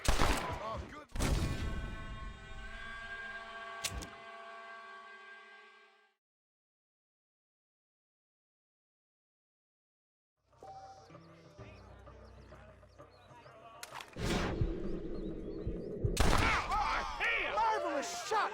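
Gunfire in a Red Dead Redemption shootout at a farm, sharp loud reports breaking over game music and voices, then a long silent gap before more bursts of shots and clatter near the end.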